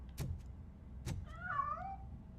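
A cat in the video game RoboCop: Rogue City gives a drawn-out, wavering meow after two sharp clicks or taps, fairly close over a quiet game background with no talk.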